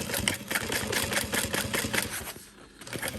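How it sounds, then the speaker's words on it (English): A sewing machine stitches a Trailblazer backpack right beside its stabilizer, with fast rhythmic needle strokes running close and steady before easing off near the end. "I'm sewing right next to that stabilizer"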